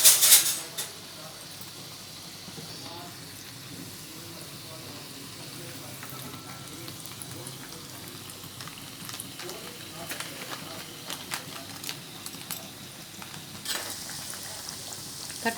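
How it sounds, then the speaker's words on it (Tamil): Thattai, crisp rice-flour snacks, fry in hot oil with a steady low sizzle and occasional crackles, while a voice talks faintly over the cooking. "தட்டை ரொம்ப அருமையாக எண்ணெயில் வெந்துட்டுருக்கு பாருங்கள்."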